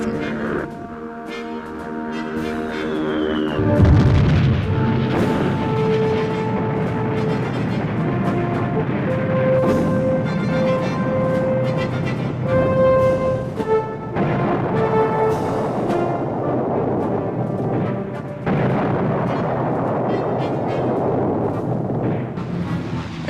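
Bombs burst across Allied airfields during wartime dive-bombing and strafing raids, with a heavy boom near the start followed by rumbling blasts and a continuous low roar, all heard under a swelling orchestral score.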